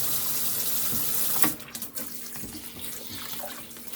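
Cold filtered tap water pours steadily into a kitchen sink, a close, constant rush that eases off partway through as the flow changes, with no talking.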